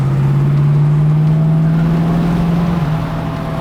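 A 1971 Mercedes-Benz 300SEL 6.3 AMG Red Pig tribute with the M100 6.3-liter V8, custom sport exhaust and air intake, holds a loud, steady deep engine drone close by, easing slightly near the end.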